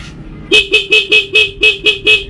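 Eight quick, evenly spaced honks from a faulty motorcycle horn, loud and close, each a short buzzy beep with a slightly raspy, hoarse tone.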